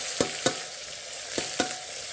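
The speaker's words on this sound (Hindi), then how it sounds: "इसको चला देते हैं।" A few soft scraping clinks of a spoon stirring eggplant and potatoes in a pressure cooker, four quick strokes over a faint steady sizzle, fairly close.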